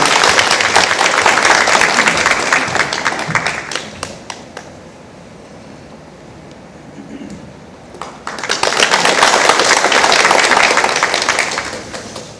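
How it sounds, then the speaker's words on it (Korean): Audience at a Jeongeup academic conference on the Donghak Peasant Revolution breaks into loud, dense applause that fades to a quiet lull, then swells again into a second strong round of clapping. "큰 박수 부탁드립니다."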